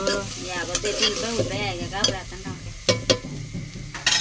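Onions and tomatoes stirred in a hot pan, with a quiet sizzle under repeated clanks of a ladle against metal, while a person talks throughout.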